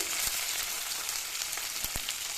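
Curry leaves and onion fry in hot oil for horse gram sambar, giving a steady, close crackling sizzle with a few sharp pops throughout.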